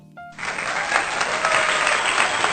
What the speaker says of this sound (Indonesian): Tepuk tangan untuk Pak Kacong Madura nih